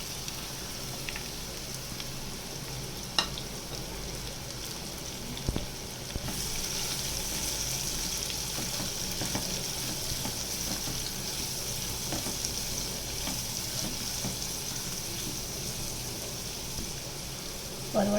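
Pointed gourd and a handful of curry leaves sizzle in hot oil for a Kathiyawadi-style shaak; the quiet, steady hiss settles in with a few faint clinks of a utensil.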